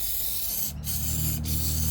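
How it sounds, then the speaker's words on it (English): Silicone spray hisses from an aerosol can onto a motorcycle during budget cleaning, a steady close hiss lasting about two seconds with two very brief breaks. "This stuff here, silicone spray."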